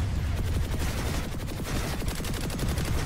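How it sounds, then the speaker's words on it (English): Turret cannons in the PlanetSide 2 shooter fire in rapid, dense bursts, a continuous rattling barrage of booming shots blending into one another with no pause. "Well, we got turret cannons going on."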